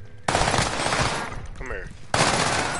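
Video game gunfire comes in two sustained bursts of rapid automatic fire, loud and close, separated by a brief lull with a faint voice-like sound.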